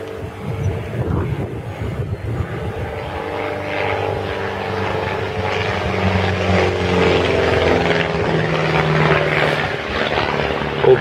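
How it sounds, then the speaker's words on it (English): A biplane stunt plane flies overhead near the Appalachian Trail, its propeller engine droning loud and steady and growing slightly louder as it passes, with some wind buffeting on the microphone. "Double winger, trick plane."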